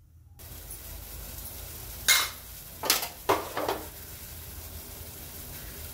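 A spoon scrapes and clinks against a cooking pot while chickpea greens are stirred with gram flour, giving three or four short knocks over a steady low background hiss, with no talking.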